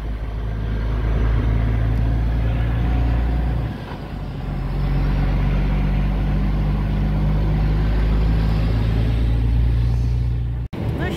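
A long semi-truck drives along in a loud, steady cab rumble of engine and road noise that dips briefly midway, then ends with a sharp knock.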